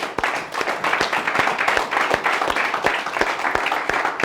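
A church congregation claps and applauds loudly in praise of the Lord during a worship service. The claps are dense and steady, with sharper beats standing out roughly every half second and a few voices underneath.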